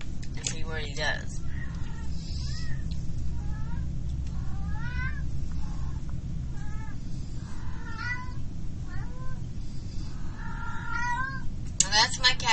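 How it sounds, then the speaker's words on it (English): A pet cat meows repeatedly, with several short rising and falling cries spread across the stretch, sitting over a steady background hum of game audio. "If you're hearing a cat in the background, that is my cat."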